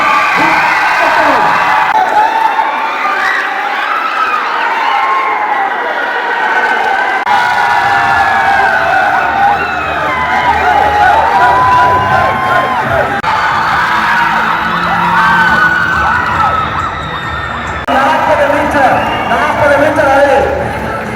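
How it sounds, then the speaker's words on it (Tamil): College students at a sports send-off cheer, whoop and shout as a loud, close crowd, with a steady roar that swells and dips throughout and a voice occasionally rising above it. "எங்கே உங்கள் கரகோஷம்?"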